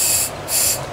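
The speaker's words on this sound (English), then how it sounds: "I can still hear a little bit of air coming through here" Air hisses through a carburetor with its needle valve fully closed, coming as two separate airy bursts with a short gap between them, each sharp and fairly loud with no voices.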